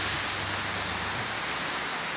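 Water drips and patters steadily from roof leaks in a house during rain, a constant hiss of falling water with no voices.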